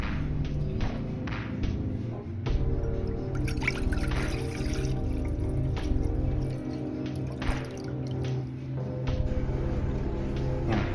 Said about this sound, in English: we're gonna pour it into that saucepan